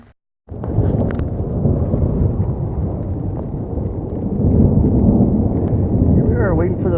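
A low, continuous rumble of thunder rolls on for several seconds, loud and deep, building slightly toward the end with a few faint ticks over it, heard from under a tarp on a backcountry trail near Cathedral Creek.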